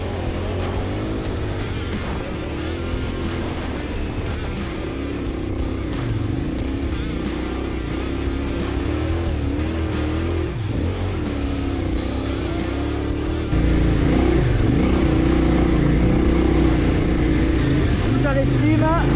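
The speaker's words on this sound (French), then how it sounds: "le sable est relativement porteur, on met du gaz" Car accelerating across soft sand dunes in Morocco, a continuous engine drone that surges louder near the end, with people talking over it throughout.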